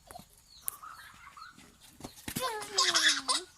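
A farm chicken clucks and squawks close by in a rural yard, with a rising drawn-out call near the end, mixed with background voices and scuffling.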